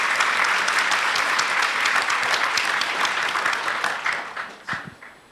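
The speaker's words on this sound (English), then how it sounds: "can we get a round of applause for them this evening?" An evening event audience applauds its sponsors in a sustained wash of many hands clapping, steady for several seconds before thinning into scattered final claps.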